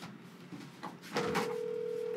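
A telephone rings out during a call, a steady electronic tone that starts partway through after some faint shuffling and then holds at an even level to the end.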